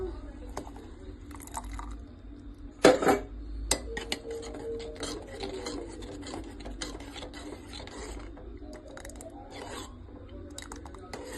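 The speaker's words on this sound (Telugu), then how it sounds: "ఇప్పుడు ఈ జొన్న పిండి ఇందులో కలుపుకుందాము" Sorghum flour being stirred into a cooking pot, heard as close scraping and rubbing of a utensil against the pot with scattered metallic clinks and one loud knock.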